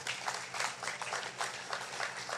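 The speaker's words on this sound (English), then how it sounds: "Give these wonderful people a round of applause" Applause from the audience at the Bank of Nevis Limited 40th anniversary event, a steady, moderately distant wash of many hands clapping that holds evenly with no talk.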